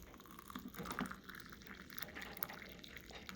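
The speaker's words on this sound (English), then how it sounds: "I've boiled some water, and in goes the water." Freshly boiled water is poured into a cup over Artemisia afra twigs, stems and leaves for tea, a soft close trickle and splash against faint kitchen background noise.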